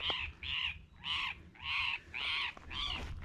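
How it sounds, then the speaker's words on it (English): A mother bird calls repeatedly near her nest outdoors, giving six harsh, crow-like caws in a steady rhythm, each about half a second long and fairly loud and close. "It's a mama bird just telling me to get out of here."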